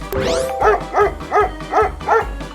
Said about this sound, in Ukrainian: Спочатку звичайний пес, коли гавкає